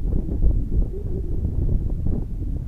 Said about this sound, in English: I'd say we've got a 10 mile an hour wind out here today